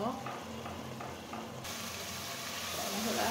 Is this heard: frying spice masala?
yes